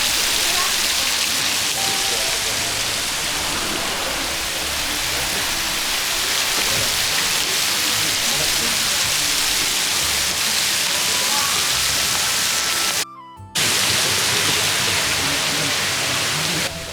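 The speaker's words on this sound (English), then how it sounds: "The water flows out from the houses like a small fountain." Continuous rushing water flowing out from houses in a canal water town, a steady hiss like a small spout or fountain splashing close by, with a brief cut near the end.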